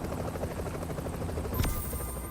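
Rotor thumps from a helicopter in Tom Clancy's The Division pulse steadily and loudly up close, and a brief bright whine cuts in near the end.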